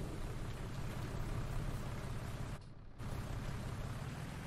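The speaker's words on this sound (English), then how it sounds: "It looks like it's going to settle in for a full day's rain." Steady rain hisses across the farmland in Farming Simulator 19, a dense, even wash of falling drops that briefly dips quieter for a moment before returning at full strength.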